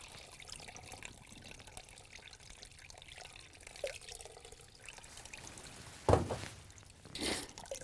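Hot water is poured over grains held in a strainer to rinse them while home brewing beer, giving a faint trickling and dribbling. Two louder splashing pours come near the end.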